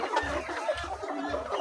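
Chickens on a poultry farm, held two or three birds to a cage, cluck in repeated close bursts over a busy background of other birds.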